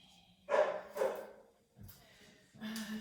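Dogs bark in short bursts during an indoor Pilates class, a few close, loud woofs separated by pauses, with faint talk around them.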